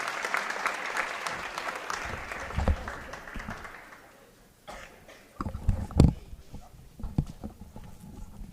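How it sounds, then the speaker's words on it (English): An audience claps loudly at a girls' varsity high school basketball senior night. The applause tapers off over several seconds, then gives way to scattered thumps and footstep-like knocks in the gym. "Give another big applause to our seniors on both teams"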